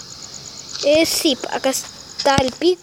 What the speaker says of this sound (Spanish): Un grillo anda ahí molestando.